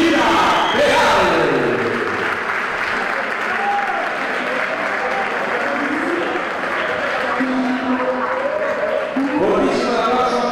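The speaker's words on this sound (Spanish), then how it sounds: "Bonísimo aplauso para Minerva Gutiérrez y para Mariú" Crowd applause and cheering at an indoor women's boxing event at Bolera Cubierta de Sarón after a bout between Mari Luz Peral and Minerva Gutiérrez, loud and continuous throughout with an announcer's amplified voice talking over it.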